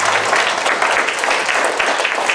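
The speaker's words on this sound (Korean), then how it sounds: "말 나온 김에 박수 한번 쳐드릴까요?" A church congregation gives full, sustained applause for the choir conductor after the first hymn, a thick, even roar of many clapping hands without pause.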